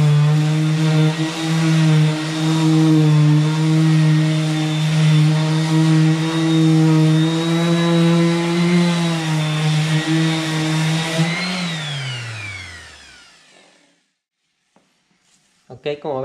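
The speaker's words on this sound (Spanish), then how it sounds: "Le voy a hacer la muestra con la lijadora" An electric sander strips paint from a wall with a loud, steady motor whine and grinding buzz for about eleven seconds, then winds down and stops, leaving near silence and a few small knocks.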